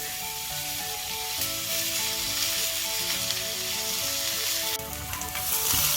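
A T-bone steak fries in a home kitchen with a steady, dense sizzle and crackle, close and continuous, briefly intensifying toward the end.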